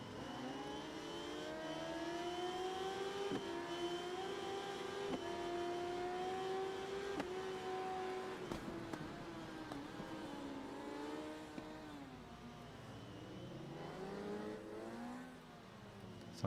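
Racing motorcycles in the Ride 3 video game, a Kawasaki and an MV Agusta, with a continuous loud engine whine rising and falling through gear changes and revs, no voices.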